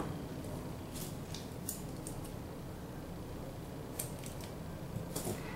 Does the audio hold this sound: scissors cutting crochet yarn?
yes